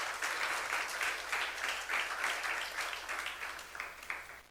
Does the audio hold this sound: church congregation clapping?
yes